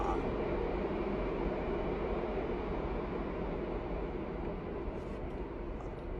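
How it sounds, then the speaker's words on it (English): A loud train rumbles past just below a room downstairs, a continuous heavy roar with deep low-end rumble that stays steady and close for the whole stretch, with no talking. "the train was downstairs, was mad loud"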